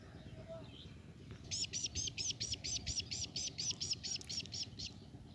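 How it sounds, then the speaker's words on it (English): A bird sings in a quiet natural place, giving a fast, even run of about fifteen bright repeated chirps over a soft, steady background hum, clear and fairly close. "This is very beautiful sound of bird."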